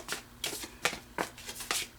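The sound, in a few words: shuffling tarot cards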